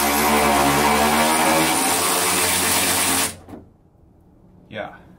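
A power tool spins out the last fender bolt on a 1970 Plymouth Duster in a loud, sustained whine that cuts off abruptly, followed by a short metallic clink.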